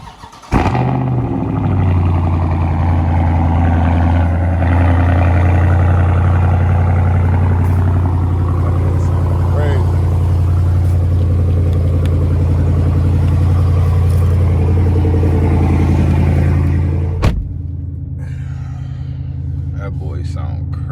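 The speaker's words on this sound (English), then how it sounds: "Give y'all guys a cold start." A 2020 Dodge Charger Scat Pack widebody with the 392 V8 cold-starts with a sharp crank and bark, then settles into a loud, deep, steady idle rumble that cuts off abruptly near the end, with faint voices nearby.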